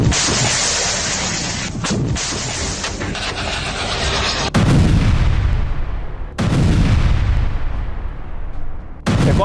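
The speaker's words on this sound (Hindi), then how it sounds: "लेबनान इजरायल बॉर्डर पर जबरदस्त गोलीबारी" Heavy gunfire and artillery at the Lebanon-Israel border, a dense stretch of loud rapid fire followed by several huge booming blasts with long echoing tails, close and overwhelming.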